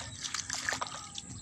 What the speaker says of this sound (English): the water is rolling